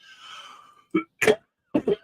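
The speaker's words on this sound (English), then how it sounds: "You don't need to hear me coughing" A few short, sharp coughs in quick succession, close up, after a brief faint murmur.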